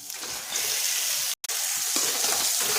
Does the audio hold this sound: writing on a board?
no